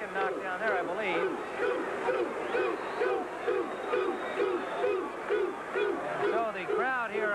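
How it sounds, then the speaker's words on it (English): A boxing crowd of Thomas Hearns fans in a WBC super middleweight bout chants a steady rhythmic refrain, dense and roaring across a large arena, with a commentator's voice mixed underneath. "The crowd here of Hearns fans chanting 2-2-2, I believe is what they're saying."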